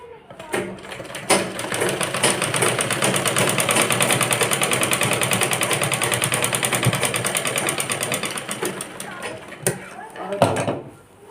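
A sewing machine stitching skirt fabric with a rapid, even whir that runs steadily for several seconds, then stops. Brief clicks and handling noises come at the start and end.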